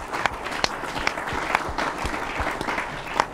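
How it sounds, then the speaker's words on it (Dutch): Applause from a pub quiz audience, a small crowd clapping steadily with a few sharp individual claps standing out, fairly close and without talk. "Groot applaus voor onze winnaars van de quiz en voor jezelf."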